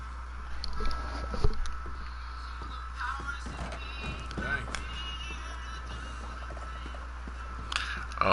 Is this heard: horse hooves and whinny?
yes